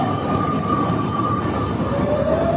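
Trains and metro cars roll through a Japanese city's office district with a loud steady rumble and drawn-out wheel squeals, no voices.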